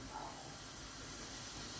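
Steam hisses steadily from a faulty water heater, a faint, even rush of noise that lasts the whole moment without a break.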